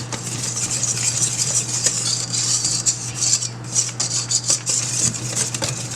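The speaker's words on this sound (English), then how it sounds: "With my whisk, just keep adding a little bit of your flour." A whisk clatters steadily against a metal bowl, stirring flour into a dinner roll dough mixture at close range in a quick, continuous scraping rhythm, with a low electrical hum beneath and no talking.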